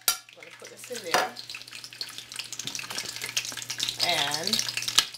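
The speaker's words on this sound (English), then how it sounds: "it's going to start frying. You're going to fry this until it's brown" Salt pork sizzles and crackles in hot oil, a steady frying hiss with occasional stirring and clinks, no talking.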